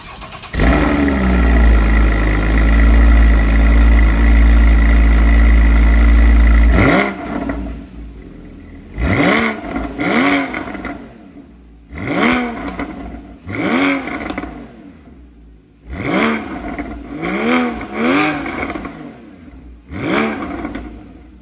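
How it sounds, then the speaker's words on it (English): A Porsche Boxster with a Fister exhaust idles loudly and steadily at first, then gives a series of sharp, close revs, each one climbing and dropping back in quick bursts. "I'm talking about the Fister exhaust by Darren Fister and FD Motorsports."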